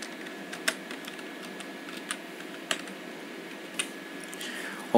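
Typing on a computer keyboard while entering a command in Windows 10: scattered individual key clicks, a few sharper taps standing out over a steady low background hum, fairly close and quiet.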